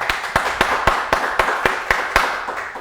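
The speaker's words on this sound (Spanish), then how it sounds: "Vamos a recibir con un fuerte aplauso a Liliana Acevedo Parada" Slow, evenly spaced claps, about ten sharp hits in under three seconds, close and fairly loud with a short room echo, welcoming a guest onto a talk show stage; no one speaks.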